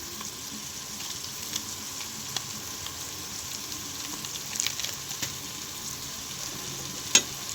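Spices and masala sautéing in a pan for goat head curry: a close, steady sizzle with scraping stirs and a few sharper clicks, no talking.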